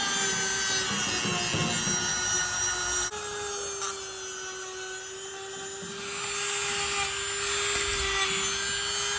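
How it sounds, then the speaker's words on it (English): A Dremel rotary tool polishes rust off the bill hook of a small square baler knotter, giving a steady high whine that shifts pitch partway through, with faint rubbing and grinding underneath for several seconds. "Don't go crazy with the Dremel."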